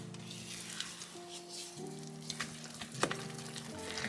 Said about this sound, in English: You want to mix it until you don't see any more fluff or chocolate streaks in it.